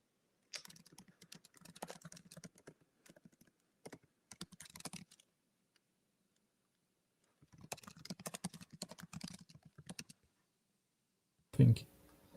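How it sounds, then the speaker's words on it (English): Computer keyboard typing in bursts of quick clicks, moderately close, with pauses between runs and a louder thump near the end. "I'm typing questions to Fabien."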